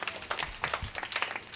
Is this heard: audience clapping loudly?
yes